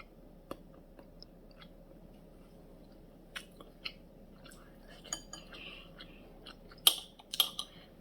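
Someone chewing soft tofu close to the mic, quiet wet mouth sounds with scattered small clinks of utensils and dishes, brief irregular bursts toward the end.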